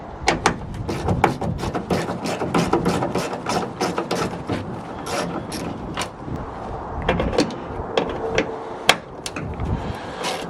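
Repeated metallic clicks and ratcheting of a tool loosening taillight bolts on a Ford F150, close up, with rustling and wind noise in the background.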